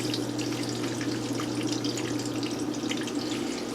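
Water rushes steadily through a discharge pipe from a Liberty 257 sump pump, a constant close hiss and gurgle with a low steady hum underneath and no voices.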